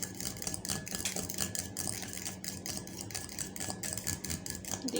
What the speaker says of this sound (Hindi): अब हम इसको अच्छी तरह से मिक्स कर लेंगे फोक की मदद से।